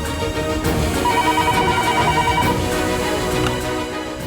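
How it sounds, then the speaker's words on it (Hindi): A telephone rings steadily with a repeating electronic tone over a dense musical background, fairly loud and continuous throughout. "सविता, राधा को फोन लगा और पूछो जानकी कहाँ है।"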